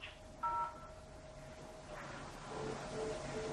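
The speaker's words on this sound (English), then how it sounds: "So I want to contact reception, so I'll dial 0." A telephone keypad sounds a short DTMF dial tone for 0 early on, followed by faint line hum and low background noise with no voices.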